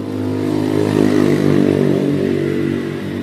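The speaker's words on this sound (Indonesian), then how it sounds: "Ketika mesin berbunyi kan ini depan muter ya, karena ini motor kopling." A Honda Win manual-clutch motorcycle engine runs at a steady, loud idle throughout, with a close, even rumble and a light mechanical clatter.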